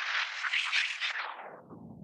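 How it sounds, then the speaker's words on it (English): A soloed equalizer band sweeps across a sound effect, a filtered noisy hiss that rises slightly and then slides steadily downward in pitch over two seconds, fairly faint and without talk. "So what you're hearing is this band of sound soloed as I sweep from left to right."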